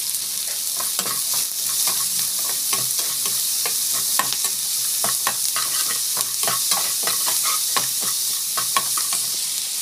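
Mustard seeds, cumin, chana dal and onion with salt fry in hot oil, a continuous loud sizzle broken by many sharp popping crackles throughout.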